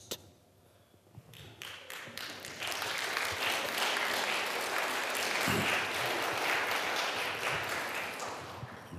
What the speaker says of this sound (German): Das ist selten, dass ich Applaus mit dem Gottesdienst bekomme.